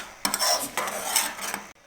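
A spoon scrapes and swirls through sago pudding with jaggery and milk in a pan, a short burst of close metallic stirring strokes lasting about a second and a half.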